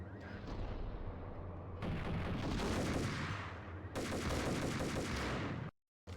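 Gunfire in the Max Payne video game, with repeated heavy shotgun blasts that come in loud, dense bursts, separated by brief lulls, then cut off abruptly near the end.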